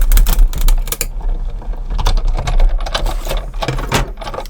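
A manual die-cutting machine cranks card stock through its plates for a birthday card, giving a loud close series of clattering, ratcheting mechanical clicks and rumbles.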